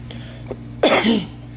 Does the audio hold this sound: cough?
yes